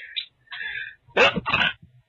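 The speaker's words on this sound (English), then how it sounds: "It makes me sneeze." A short, sharp sneeze burst follows a few faint squeaky vocal sounds, close and fairly loud, with brief quiet gaps between.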